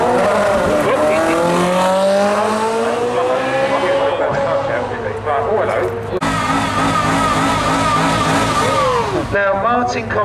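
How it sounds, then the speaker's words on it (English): Ferrari 458 Spider running at the Brighton Speed Trials, a loud engine note rising and shifting in pitch with tyre noise, while a commentator talks over it throughout. "97 Graham Cave in the 458 Ferrari Spider."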